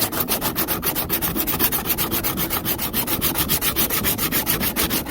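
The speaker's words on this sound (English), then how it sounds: "I'm going to hit this with the sandpaper, smooth it out as much as possible." Sandpaper is rubbed back and forth over the hull of a Pelican Apex 80 XE kayak in fast, steady, close strokes, a continuous rhythmic scratchy rasp with no voices.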